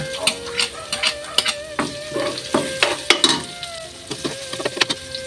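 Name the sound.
ginger frying in a pan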